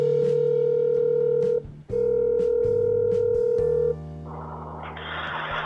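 A phone call is placed: steady tonal beeps sound with brief dial tones between them, then ringing tones follow, loud and close with no talking.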